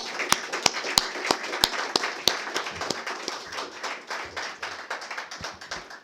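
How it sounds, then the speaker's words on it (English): Applause from an audience at a medical society congress, a steady patter of many hands with a few sharp, close claps standing out, fading gradually toward the end. "So let's give him a clap just for that."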